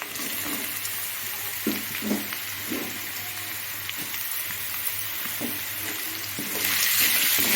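Grated raw mango and onion sauté in a pan for mango rice, a soft continuous sizzle with a few quiet stirring knocks, growing slightly louder near the end.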